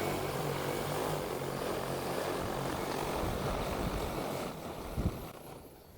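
An XAG P100 Pro agricultural spray drone flies back toward the operator, its propellers giving a loud, steady droning buzz that drops away near the end, followed by a couple of soft thumps.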